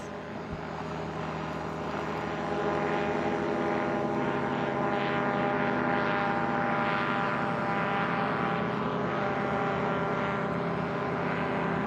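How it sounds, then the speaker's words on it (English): Loud, steady drone of propeller airplane engines at high power as STOL drag race planes take off, sustained throughout with no voices. "The famous 321C as Kevin Quinn launches those airplanes."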